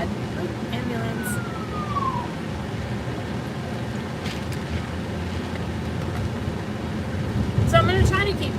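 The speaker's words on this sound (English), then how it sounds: "Oop, ambulance." A faint ambulance siren wails in the distance, partly masked by steady background noise, with a brief brighter sound near the end.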